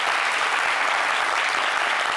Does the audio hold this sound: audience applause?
yes